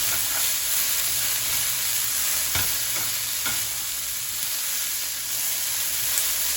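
Bean sprouts hiss and sizzle steadily in a hot pan as they're stirred, a loud continuous frying crackle with a few sharp clinks from the utensil, no talking.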